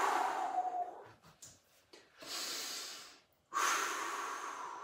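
Deep, heavy breathing during a one-minute rest in a bodyweight functional strength class, with several long inhales and exhales, loud and close, and no talking.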